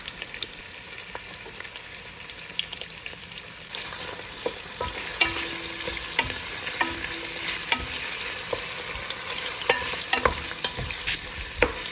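Onion sautés in hot oil over medium-high heat for a weeknight pantry pasta, a steady close sizzle with frequent stirring scrapes and clinks that grows louder and denser partway through, with no talking.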